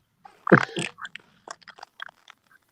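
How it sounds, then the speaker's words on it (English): Someone crunches Captain Crunch cereal, a couple of loud bites followed by scattered smaller crisp chewing crackles, close to the mic and otherwise quiet. "And who's eating Captain Crunch?"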